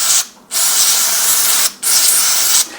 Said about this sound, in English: take your alcohol spray again and wash it off